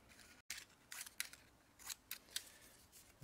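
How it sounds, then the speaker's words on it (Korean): Scissors snip quickly through strips being cut into a basketball-hoop-style net, making a run of soft, crisp, close cuts at an uneven rhythm with no talk. "가위 이용해서 마치 농구 골대 줄처럼 이렇게 잘게 잘라줍니다"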